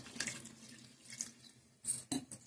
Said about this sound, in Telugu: కొద్దిగా వాటర్ వేసుకుందాం